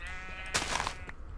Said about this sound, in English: Dancing sheep.